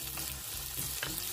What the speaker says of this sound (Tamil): வெங்காயம் சின்ன சீரகம் பெருஞ்சீரகம் வதங்க விட்டுருக்கிறேன்